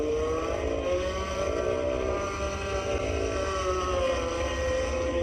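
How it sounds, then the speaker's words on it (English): A Chevrolet Cavalier's engine revs hard at a demolition derby in Schomberg, Ontario: a loud, continuous engine drone that rises and falls in pitch, heard up close with crowd and track noise underneath. "I hear some revving, and I see that Cavalier."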